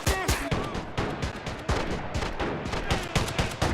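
Artillery guns in a video game battle for Pork Chop Hill open fire, a rapid barrage of sharp, loud blasts in uneven succession with booming impacts, no voices heard.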